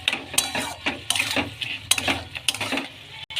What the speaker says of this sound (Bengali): এই যে চর্বিটা দিয়ে দিচ্ছি। ভালো করে একটু কষে নেব।